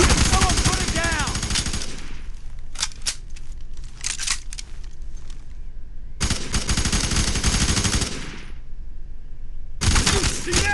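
Machine gun suppressing fire in a video game battle: loud sustained bursts of rapid automatic fire, broken by short pauses and scattered single shots, with shouted voices between.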